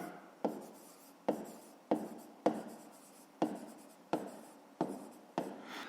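A pen scratches out numbers on paper while a fifth-grade math exercise is worked, making eight short, evenly spaced scribbling strokes, close and soft, with no talking.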